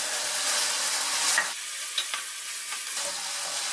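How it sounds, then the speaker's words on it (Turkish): Butter melts into browned meat in a hot pan for a mutancana stew, a loud steady sizzle that hisses continuously, with a couple of brief stirring scrapes partway through. "Şimdi tereyağını ekliyoruz."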